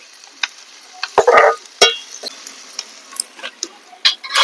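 Spoon stirring chili powder and turmeric into cauliflower curry in a pan, with scattered scraping clicks, short scrapes and a faint sizzle, close and fairly loud.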